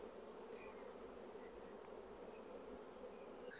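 Honeybees hum in a dense, steady buzz around an open hive frame of brood, honey and pollen, continuous and close with no voices.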